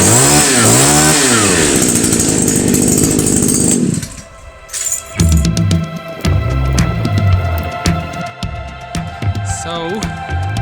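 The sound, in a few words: petrol strimmer engine starting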